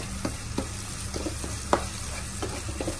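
Chopped tomato sizzles in a hot pan for a chicken sausage roast, a steady frying hiss broken by several sharp scraping stirs of the spoon, one louder clack near the middle.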